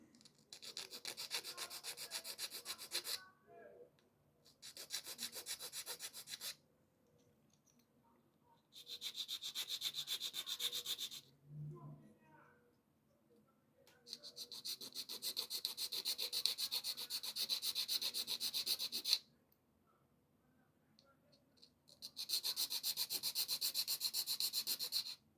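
A file works the sawtooth edges of a small plastic N gauge PECO buffer stop, rasping in close, dry strokes grouped into several sustained bursts separated by quiet pauses, with no speech.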